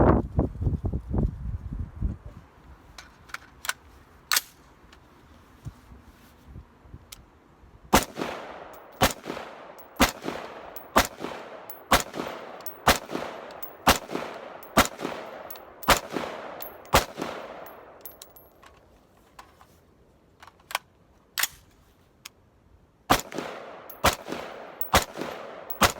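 Repeated gunshots from a firearm with freshly loaded magazines, sharp loud reports fired in irregular bursts and single shots with short pauses, echoing outdoors across about 26 seconds with no talk.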